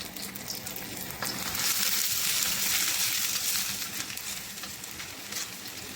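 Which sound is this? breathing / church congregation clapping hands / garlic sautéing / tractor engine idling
garlic sautéing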